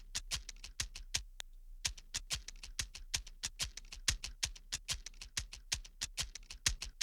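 A chopped shaker loop arranged in FL Studio plays as sharp, evenly repeating shaker hits over a soft low thump, with one brief gap early on before the pattern resumes. It plays alone at moderate volume.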